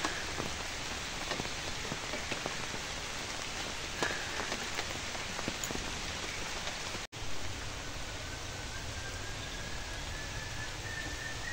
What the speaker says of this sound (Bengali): জল হচ্ছে তো এই জন্য খুব ভালো লাগছে।